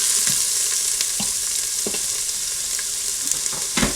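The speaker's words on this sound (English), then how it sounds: "we're gonna grab our onions, dump those in, and then we're gonna saute just for a little bit" Onions sautéing in a pan, a loud close hiss of frying with occasional soft knocks of a utensil stirring, continuous throughout and no talk.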